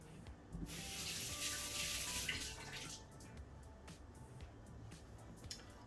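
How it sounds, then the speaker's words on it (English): Tap water runs over a removable Tassimo coffee machine part for a couple of seconds, a loud hissing rinse that then fades to softer trickling and drips in a kitchen sink. "I'm just going to run some water through that for a second."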